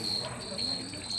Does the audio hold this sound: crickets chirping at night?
yes